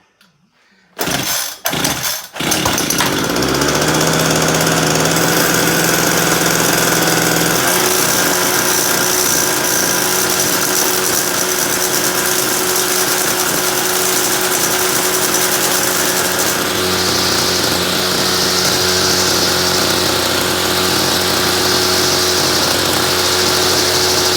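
A 26cc Homelite weed eater engine cranks with a few sputtering pops, then catches and runs loud and steady, droning close by without throttle for the rest of the time.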